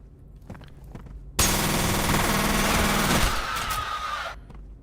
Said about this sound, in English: Do gunshots cast shadows in this game?